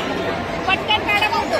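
Dense crowd murmur at the Kalika Mata temple, a continuous babble of many nearby voices, with a few brighter voices briefly rising above the steady din.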